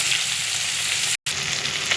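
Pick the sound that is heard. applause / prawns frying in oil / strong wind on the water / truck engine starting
prawns frying in oil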